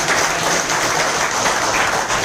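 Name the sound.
audience applause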